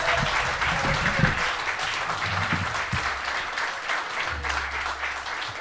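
A studio audience at a live Arsenal fan talk show applauds Harry Symeou, Gooner host and BBC Radio London commentator, with dense, steady clapping that holds through the whole stretch over a faint low hum.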